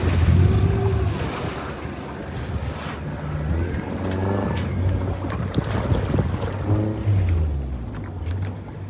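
A pilot boat powers at full speed through waves off the coast, its engine droning low under loud wind buffeting the microphone, with water rushing and slapping against the hull.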